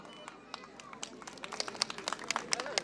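Audience applause at a children's award ceremony, a crowd clapping in a dense patter that grows brisker and louder, with voices mixed in.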